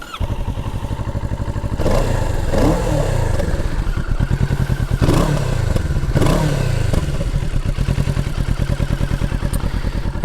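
Kawasaki Z650 or Yamaha MT07 parallel-twin motorcycle idling with a steady, throbbing exhaust note, then blipped through several sharp revs that rise and fall, loud and close, with no talking.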